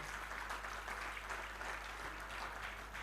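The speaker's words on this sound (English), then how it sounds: "Can you clap for the chair of Abuja?" An audience claps for a chapter chair at an anniversary celebration and general meeting in Abuja, a steady, fairly faint patter of applause over a constant low hum.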